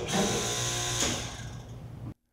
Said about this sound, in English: a SureStart is installed on the same standard single-phase 7-horsepower compressor